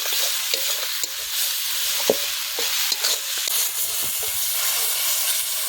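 Chicken masala rice fried in a pan, a loud constant hissing sizzle broken by repeated scrapes and taps of a spatula as the rice is stirred, close by with nobody talking.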